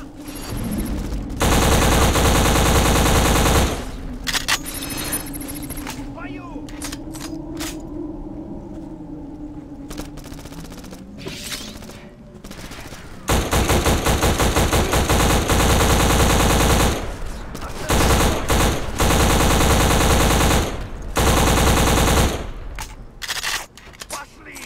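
Gunfire in the shooter game Black, sustained loud machine-gun bursts separated by quieter stretches, heavy rapid automatic fire dominating much of the scene, with a voice calling out briefly.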